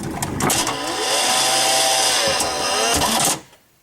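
Power sliding door on a 2005 Chrysler Town & Country minivan closing, a whirring motorized pull lasting a few seconds with clicks at the start and end, close and loud, then a final latch thunk before silence.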